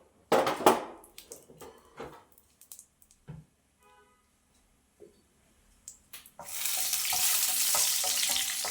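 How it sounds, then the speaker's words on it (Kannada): Raisins and cashews drop into hot ghee in a pan, making a brief scatter of sizzling and clinks before a steady loud frying hiss sets in for the last couple of seconds. Quiet pauses sit between the early sounds. "ಸ್ವಲ್ಪ ಫ್ರೈ ಮಾಡ್ಕೊಳ್ಳೋಣ ದ್ರಾಕ್ಷಿ ಗೋಡಂಬಿ"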